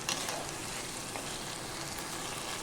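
Spiced pointed gourds frying in a pan while being stirred, a constant close sizzle with faint scraping, steady throughout and without talk.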